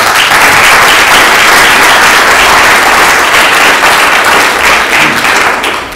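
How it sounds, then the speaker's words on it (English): Loud, sustained applause from a conference audience, dense rapid clapping from many hands holding at full strength before easing slightly at the very end. "Big round of applause."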